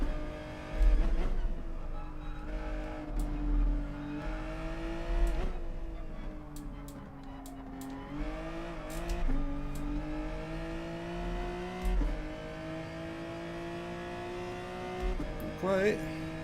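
Race cars lapping the Nurburgring GP in GT Sport: a close engine drone repeatedly climbs in pitch through the gears, drops on shifts and braking, and revs again, with other cars and faint voices in the mix.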